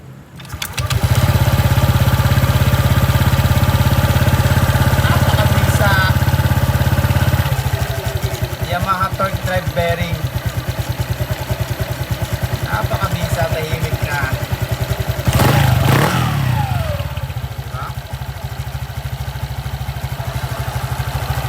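A Honda Click 125 scooter fitted with a Yamaha Aerox torque drive bearing starts up and runs with a loud, close, buzzing idle, then settles into a steady engine drone with brief revving and some talking over it.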